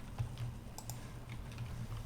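Computer keyboard keys pressed in a short burst of copy and paste shortcuts, a few quiet clicks close to the mic over a steady low hum, with no talking.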